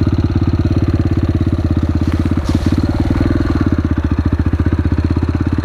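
A Yamaha TDR motorcycle engine idles steadily up close, a loud, even rapid thumping pulse that holds a constant pace throughout with no talk.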